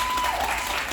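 Cruise ship audience applauding and cheering in response to a comedian at a comedy show on the Radiance of the Seas, a dense, continuous burst of clapping at constant loudness for about a second.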